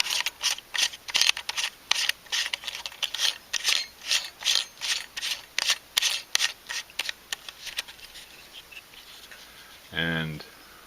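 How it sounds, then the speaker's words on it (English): A quartz clock for a 1965–1966 Mustang Rally Pak being screwed onto its housing: close, rhythmic ratcheting and rasping strokes repeating steadily for several seconds, then a brief voice at the end. "I can screw this on."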